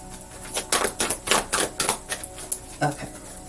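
Tarot cards being shuffled by hand, a quick series of crisp riffling and slapping bursts at close range, moderately quiet, with no talk over it.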